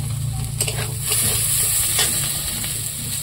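Food frying in a pan with a loud continuous sizzle and a few sharp stirring scrapes, heard up close.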